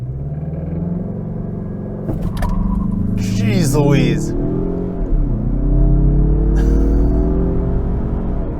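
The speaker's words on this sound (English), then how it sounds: "You heard the tires squealing." A 2023 Mazda CX-30 Turbo in sport mode launches hard from 0 to 60 with a loud, rising engine roar and brief high tire squeal, a person exclaiming briefly over it.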